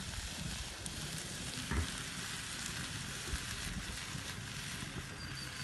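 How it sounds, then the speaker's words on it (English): Mushrooms frying in a pan on an OFYR outdoor grill give a steady, broad sizzle, fairly quiet and continuous, with occasional soft pops and a faint outdoor breeze, no talking. "Once we've sorted them out in their space in the pan, we will leave them like that now, so that they crisp up on the outside."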